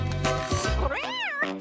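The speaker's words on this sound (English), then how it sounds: "Oh, look, it's a cute little kitty cat." A cat meows at close range: a few short sounds first, then a drawn-out, wavering meow that rises and falls in pitch before a final brief call.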